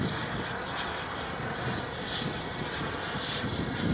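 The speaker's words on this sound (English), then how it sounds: "So in the background, it's actually an Embraer. So that is a little 175 operated by SkyWest." An Embraer 175 airliner operated by SkyWest sends a steady, broad engine roar across an airport at Phoenix, holding a constant loud wash of noise without a break and with no talk over it.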